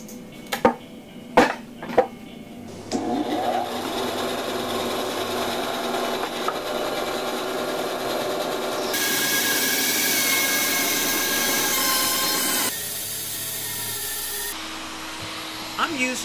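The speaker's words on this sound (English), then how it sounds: "Using a spindle sander I picked up" Spindle sander shaping an acoustic-electric Tele-style guitar body, a steady whining motor drone with grinding abrasive noise that intensifies midway, after a few knocks at the start.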